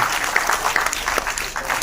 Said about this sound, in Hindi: इनके लिए जोरदार तालियों से स्वागत किया जाए माननीय संचालक महोदय जी का